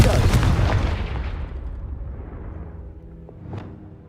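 A Confringo blasting spell goes off in Hogwarts Legacy inside a castle, a loud booming burst at the start that rumbles and fades over several seconds, with a smaller pop near the end.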